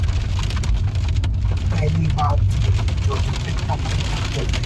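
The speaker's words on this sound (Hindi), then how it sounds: "लगातार बारिश और ओले।" Continuous rain mixed with hail on the road to Kedarnath near Chopta, a dense steady patter and hiss throughout with scattered sharper impacts, loud and close.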